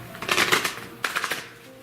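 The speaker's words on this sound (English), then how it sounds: "we're going to shuffle up our next deck" A deck of cards being shuffled during a tarot reading, two quick riffling bursts of soft papery flutter, close and fairly quiet with a brief pause between them.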